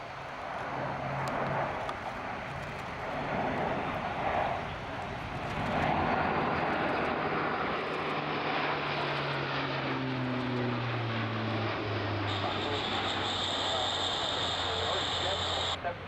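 Airbus A400M military transport aircraft flying past at an air display, a loud continuous propeller drone with falling pitch tones as it passes, steady over the whole stretch with a voice speaking over it.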